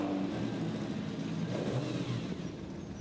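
A Ferrari 250 GT Breadvan racing car revs its engine at Le Mans Classic, a close, loud mid-pitched drone with a rising pitch sweep, easing off toward the end.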